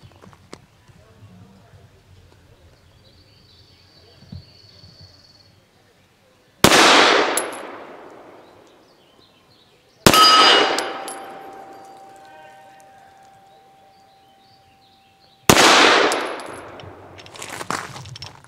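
A Grand Power Q100 pistol fires MagTech 95 grain soft point rounds, fired left-handed at an outdoor range: three loud sharp gunshots, each ringing out and decaying, spaced a few seconds apart, with quieter handling sounds and low murmur before the first.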